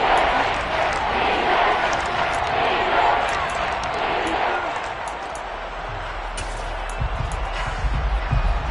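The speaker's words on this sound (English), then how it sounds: "The crowd getting into it." A football stadium crowd roars in a dense, sustained wall of cheering that eases slightly midway, with a low rumble building beneath it toward the end.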